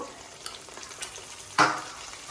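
Ginger-garlic paste frying in oil for a chicken pickle, a low steady sizzle with a few faint stirring clicks and one louder scrape near the end, close and without talk.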